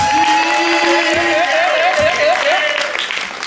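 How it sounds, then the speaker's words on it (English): An audience applauds the hosts at a Haitian comedy film's behind-the-scenes event, with steady, dense clapping throughout and a whistle-like tone weaving over it, fading slightly at the end. "Let's just give our host a round of applause."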